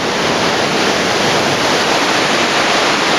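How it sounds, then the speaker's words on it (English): Roaring rapids of an underground waterfall rush through Hwanseon Cave in Samcheok, South Korea: a loud, dense, unbroken wash of water noise filling the space with no voices. "this loud noise you're hearing is this kind of cave waterfall that's going down,"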